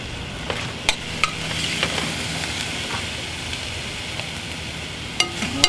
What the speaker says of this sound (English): Now we're gonna let that saute for a little bit.